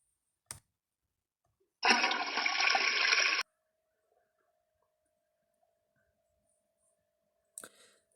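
A toilet flushes in a short rushing burst of water that lasts about a second and a half, framed by faint clicks and near silence.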